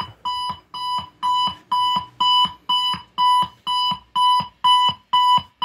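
A homemade alarm clock fed through a Fender amp sounds a loud, regular electronic beeping pattern, about two bursts per second repeating steadily and close, with no voices.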